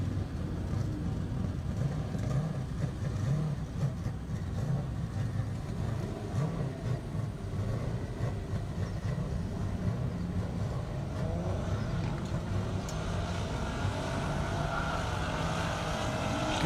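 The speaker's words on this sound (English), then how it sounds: "Good launch strategy by the AMG." Mercedes-AMG car launching down a half-mile airstrip at a top-speed racing event, heard from a distance as a steady, continuous engine roar that builds slightly toward the end.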